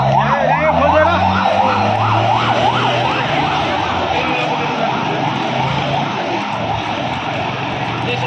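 A wailing emergency siren, likely an ambulance, rises and falls in steady repeated sweeps over loud traffic and crowd noise during Gen-Z street protests in Nepal, sounding near and continuous throughout.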